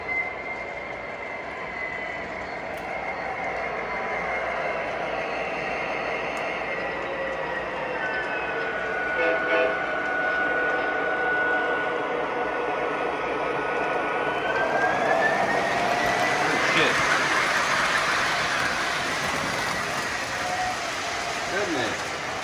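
A Lionel model train pulling die-cast PRR cars runs steadily on its track, a continuous close rolling whir with a rising whine near the end, and a person talks over it.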